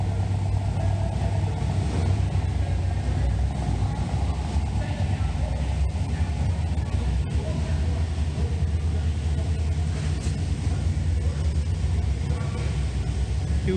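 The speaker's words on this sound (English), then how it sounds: "Wondering what a 67 sounds like with side pipes, there you go." A 1967 Corvette with side pipes idles and rumbles steadily with a deep, continuous engine drone throughout, while a voice talks over it.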